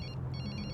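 A telephone bell rings in a scene from a Bollywood action film, a close, steady electronic ring with rapid repeating pulses that fills the whole short moment.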